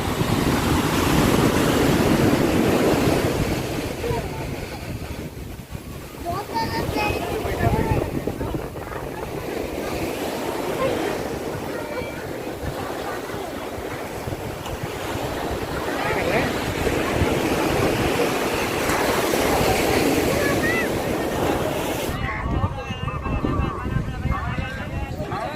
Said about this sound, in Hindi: देख कितनी वेव्स आ रही है